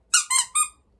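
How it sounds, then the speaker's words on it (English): A squeaky plush squirrel dog toy is squeezed three times in quick succession, giving short, bright, close squeaks with no talking. "Two squeaks on this."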